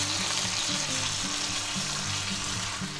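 A chuck roast sizzles in melted butter in a hot pan, a steady, close crackling fry that carries evenly from start to finish with no voices over it.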